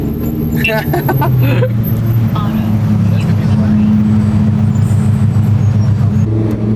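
A car engine revving and accelerating in sport mode on a late-night drive, a loud continuous low rumble that rises in pitch, with a voice talking over it.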